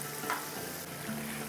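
Ranga aloo pitha (sweet potato cakes) fry in hot oil over a medium flame, a soft steady sizzle with a brief scrape of a spoon stirring them, quiet and without talk.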